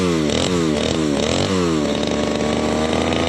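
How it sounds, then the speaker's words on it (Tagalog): A repaired grass cutter engine with a new rotor runs steadily and loudly, its buzzing two-stroke drone dipping briefly in pitch a few times before settling into a continuous high whine. "Maganda po yung takbo. Bago po yung rotor. Maganda po yung makina."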